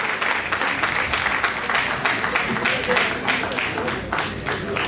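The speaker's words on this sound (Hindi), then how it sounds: "दोनों ही पुत्रों के लिए जोरदार तालियां बजाकर स्वागत करें" Sustained audience applause at a ceremony honouring the families of freedom fighters and martyrs, greeting two sons, with dense steady clapping throughout and a faint voice now and then beneath it.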